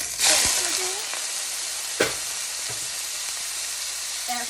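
Shrimp frying in olive oil in a hot pan, a strong constant close sizzle with a few clatters as pieces go in, a voice speaking briefly over it.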